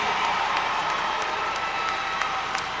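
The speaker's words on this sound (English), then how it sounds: "please give these honor graduates a round of applause." Steady applause from a large crowd at a high school graduation, continuous clapping that fills the space at an even level throughout.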